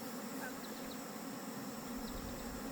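A bee swarm being caught by a beekeeper outdoors, a dense steady buzzing of many bees that stays loud and continuous throughout, with no pauses.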